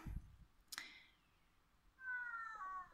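Stray cats quarrel in a residential condominium area in Bosa, giving a faint rough cry, a sharp squeal, then a longer drawn-out meow, all distant and alone.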